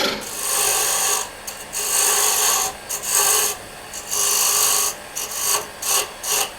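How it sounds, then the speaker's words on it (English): A 3/8 inch bowl gouge cuts spinning mesquite wood on a lathe, giving a loud, bright rasping hiss in repeated bursts of a second or two, separated by short pauses. "I'm going to take it off with a gouge, 3/8 inch bowl gouge."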